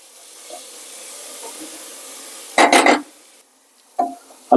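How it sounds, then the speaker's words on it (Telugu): Ginger-garlic paste fries in oil in a pan for a mutton head curry, giving a soft, low sizzle broken by a few short, louder bursts of stirring and hissing. "అల్లం వెల్లుల్లి పేస్ట్ ఏంటంటే పచ్చివాసన పోయినంత వరకు బాగా ఫ్రై చేయాలి, ఆయిల్లో"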